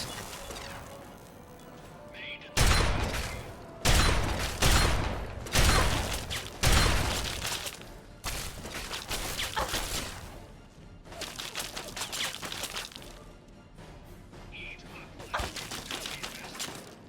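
Pulse grenades going off in Fallout 3, a string of sharp, loud crackling bursts about a second apart, followed by quieter scattered crashes, with a player talking over them.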